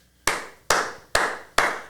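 Four sharp hand claps in a steady rhythm, close and fairly loud, each ringing out briefly before the next.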